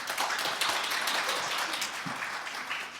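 Audience applause at a family-court guardianship workshop in Korea: dense, steady clapping from a hall full of people that fills the whole stretch at even strength, with no voices over it.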